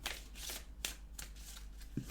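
A deck of tarot cards is shuffled and cut by hand, close and quiet, with several crisp riffling bursts and soft taps, with no talk.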